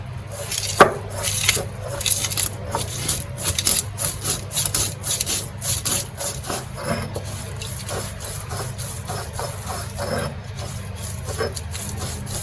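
Shallots, cumin and fennel being ground together for a Kerala fish masala, a steady gritty rubbing and scraping that runs the whole time with small knocks, close up and with no voices.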